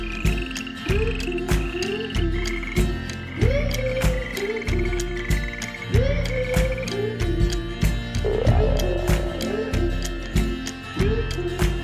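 Frogs croak in a steady, loud chorus of repeated rising calls, some near and some overlapping, with no talk over them.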